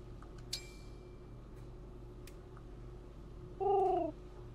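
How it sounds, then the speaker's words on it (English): Two pigeons in Fire Emblem Engage give a brief soft call early, then one clear warbling coo near the end, standing out over a constant low game ambience. "Now we have two pigeons."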